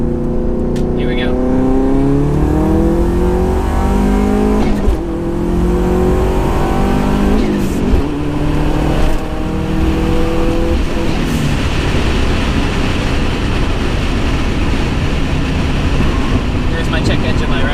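Subaru WRX pulling hard in third gear on a highway, the engine climbing in pitch through a sustained loud acceleration heard from inside the car with heavy road and wind roar, then settling.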